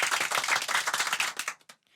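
A school audience at an annual function day claps during a comedy skit, a dense burst of many hands applauding together that fades out quickly after about a second and a half.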